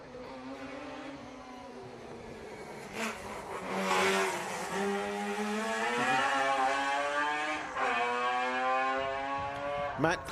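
A Ford Mark 1 Cortina race car at a historic grassroots sprint event drives through a corner, its engine note rising and falling steadily as it revs and shifts, loud and fairly close throughout.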